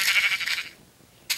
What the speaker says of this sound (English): Stop trying to save the sheep.